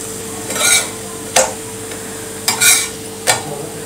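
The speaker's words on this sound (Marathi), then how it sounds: "आता आपण असं दुसऱ्या बाजूने पलटून घेऊया आणि दुसऱ्या बाजूने सुद्धा असं छान खमंग खरपूस भाजून घेऊया।" Thalipeeth flatbread roasting on a hot pan after being flipped, with a gentle sizzle and several sharp scrapes and taps of a spatula against the pan, close and clear, with no voices.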